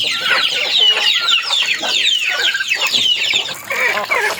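Pet chickens waiting to be fed breakfast cluck and squawk in a busy, overlapping chorus, loud and close throughout.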